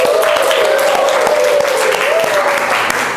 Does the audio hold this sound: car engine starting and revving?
no